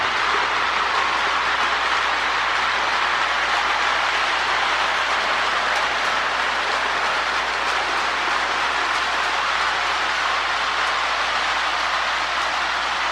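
A Marx E7 AB toy electric train pulling 19 cars runs steadily with a continuous whirring hum and faint rail clatter, nearby and even in level throughout.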